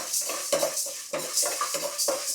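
Lentils are being dry-roasted in a pan with no oil, the spatula scraping and stirring in steady repeated strokes, a rattling shuffle of grains against the metal, close and fairly loud with no voices over it.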